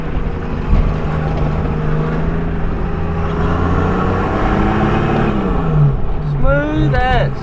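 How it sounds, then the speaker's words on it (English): A 4WD with a coil conversion driving off the road, its engine droning steadily loud with gear changes and rising revs, under someone talking. "But we're just going to cruise off the road."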